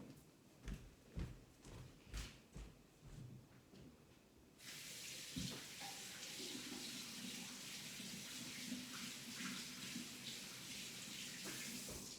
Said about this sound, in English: I think I'm gonna go ahead and stop there and rinse off